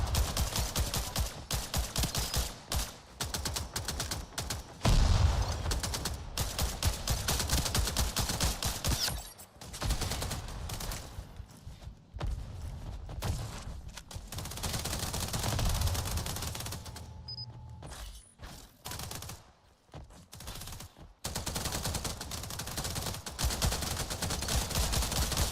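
Gunfire from a ten-round weapon in a VR game playtest crackles in rapid, repeated volleys over most of the stretch, with short gaps between bursts.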